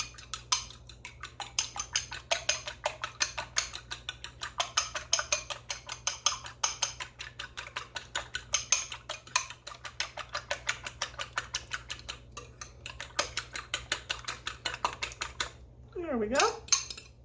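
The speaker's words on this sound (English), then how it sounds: "Next thing I'm going to do is I'm going to beat these 2 eggs." Two eggs being beaten in a bowl, a long run of fast rhythmic clicking taps as a whisk or fork strikes the bowl, fairly close and steady, ending with a brief voiced sound.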